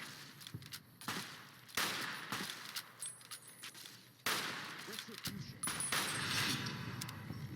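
Gunfire in the video game Fallout New Vegas strikes the player, with sharp shots and impacts scattered across the clip among other game noises.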